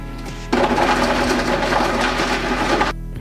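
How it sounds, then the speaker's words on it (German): Blender grinding almonds for a raw vegan cheesecake base, a loud, rough whirring burst lasting a little over two seconds with hard grainy rattling, starting and stopping abruptly over a low motor hum. "So, hier werden die Mandeln gemixt."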